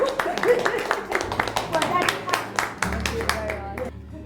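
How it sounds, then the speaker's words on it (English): An audience of women in Uganda claps for a visiting doctor, a ragged run of distinct nearby handclaps over a low background hum. "But we first clap for you."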